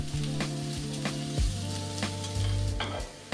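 Julienned carrots with a little salt sizzle in a spoonful of oil in a sauté pan over medium heat, a steady close crackle with occasional stirring bursts under soft background music.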